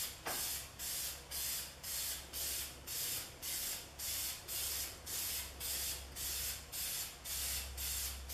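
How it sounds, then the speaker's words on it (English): Rapid, rhythmic bursts of spray paint hissing from a can, over a dozen short even pulses in a steady pattern, close and fairly loud. "paint it on, or spray it on, I mean."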